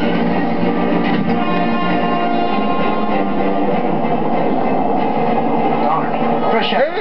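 A monorail ride in the PS3 game Spider-Man 3 produces a continuous, loud rumbling, whooshing train sound that runs steadily throughout, with a brief swell near the end.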